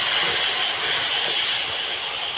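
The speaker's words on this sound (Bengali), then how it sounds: "এখানে আমি উষ্ণ গরম জল নিয়েছি, একটুখানি দেবো যাতে মশলাটা না গায়ে লেগে যায়" Warm water poured into frying spice paste for a potol posto dish sets off a loud, steady sizzling hiss, close up and unbroken, slowly easing in intensity over a couple of seconds.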